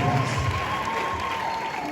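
Applause from a church congregation welcoming a visiting apostle, a steady wash of clapping heard throughout with voices mixed in.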